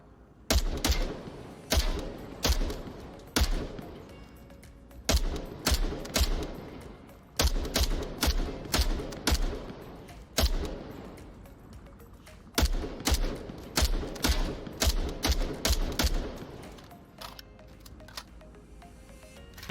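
An MK rifle in the VR shooter Onward firing on the shooting range in repeated sharp bursts of several shots each, separated by short pauses, loud and close.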